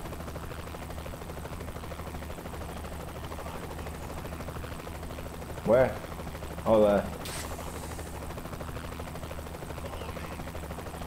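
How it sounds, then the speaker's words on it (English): A helicopter flying overhead in the video game Saints Row: The Third Remastered, a steady low rotor thrum that holds through the whole stretch, with a couple of short spoken remarks over it. "Chopper there, can you not see it?"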